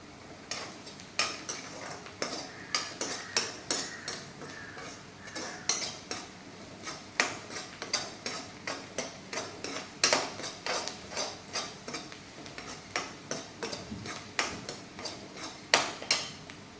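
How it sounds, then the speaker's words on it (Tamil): Red chilli powder frying in a pan while a utensil stirs it, giving a steady series of sharp scraping and tapping strokes against the metal, close and fairly loud, repeating through the whole stretch with no talking. "ரெட் சில்லி பவுடர் போட்டுக்கலாம். போட்டுட்டு அதையும் நல்லா வறுத்துக்கலாம்."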